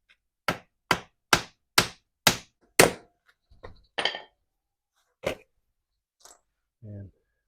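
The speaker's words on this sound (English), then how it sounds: "Protruding a little bit, you just kind of gently tap them" Sway bar bushings on a Jeep Wrangler TJ are gently tapped into place: six sharp, evenly spaced knocks in quick succession, then a few scattered taps and faint handling noises, close and clear in a quiet setting.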